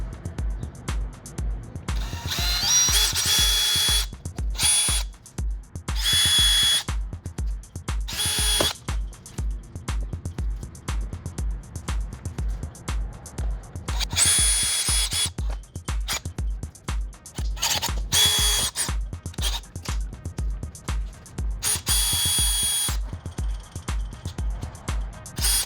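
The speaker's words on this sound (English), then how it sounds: "I'm going to use the drill." A power drill bores out rivets along the top of a 2010-2013 Chevy Camaro SS bumper, giving repeated whining bursts of varying length with short pauses, close and loud over a steady low hum.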